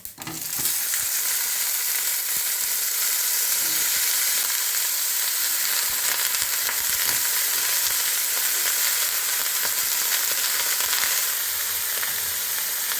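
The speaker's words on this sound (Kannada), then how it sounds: "ಅದನ್ನು ಎಣ್ಣೆನಲ್ಲೇ ಬಾಡ್ಕೊಳ್ಳೋಣ" Pieces of eggplant fry in hot oil for vangi bath, giving a steady, even sizzle that carries on throughout with no talking.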